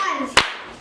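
Two sharp hand claps about half a second apart, loud and close, following a sustained tonal voice or music at the start.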